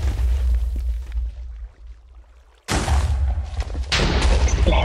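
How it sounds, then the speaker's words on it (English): Loud booming explosions in the Minecraft video game: a heavy blast, a brief lull, then a second sharp explosion with crackling debris, close and dominant with almost no talk. "Explosion."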